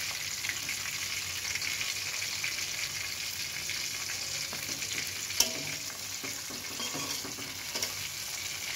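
Rohu fish frying in a pan of oil, a continuous soft sizzle with occasional clicks and scrapes as the pieces are turned, fairly quiet and steady with no talking.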